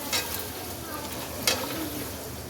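Kofta and yogurt fry in a pan over a low flame for kofta biryani, with a soft, steady sizzle and two brief utensil taps, quiet and close.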